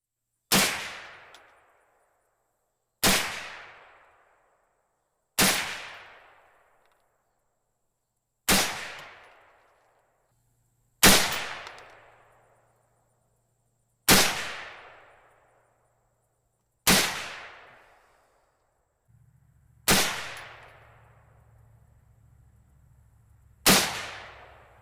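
A Savage Arms A22 .22 WMR semi-automatic rifle fires nine sharp, loud shots outdoors, spaced every two to three seconds, each followed by a short decaying echo.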